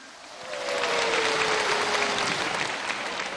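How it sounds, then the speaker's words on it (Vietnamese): A large audience bursts into loud, sustained clapping at a Vietnamese stage arts concert to welcome a male singer, swelling after half a second and holding dense and even. "chúng ta sẽ dành một tràng vỗ tay thật lớn để chào đón ra sân khấu nam ca"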